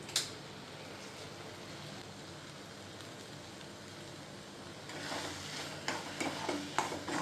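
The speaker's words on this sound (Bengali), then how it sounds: "গরম মশলা দিয়ে একটু নাড়িয়ে চাড়িয়ে একদম শুকনো শুকনো হয়ে গেছে" Garam masala and spices being stirred in a pan, with a soft, quiet sizzle for the first few seconds, then louder scraping and clattering stirring strokes near the end, no voices.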